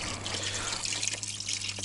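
Fish scales and heads are dumped into a river, with water splashing and trickling in loose, dripping bursts over a steady low hum, and nobody speaking.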